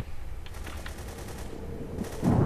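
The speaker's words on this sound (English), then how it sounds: "someone's shooting at him" Gunfire in the multiplayer shooter game The Hidden crackles in rapid bursts over a constant low rumble, with a louder heavier blast at the end.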